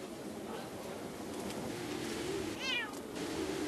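A cat gives a short meow near the end of a steady outdoor background hum, heard close and fairly clear against the ambient wash.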